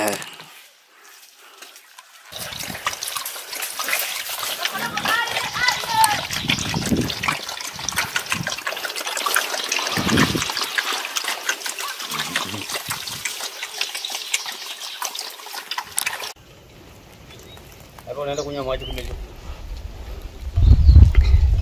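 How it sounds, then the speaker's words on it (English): Water from a natural spring in the African bush trickles and splashes for long stretches, broken by short pauses and small movements nearby, with no one speaking. "Drinking from natural springs."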